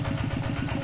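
Farm tractor engine in a rural setting, a steady close chugging idle with a quick regular pulse, brief and fairly loud.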